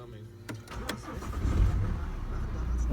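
A 2011 BMW X1 engine cranks and catches, then settles into a steady, loud rumble that continues to the end.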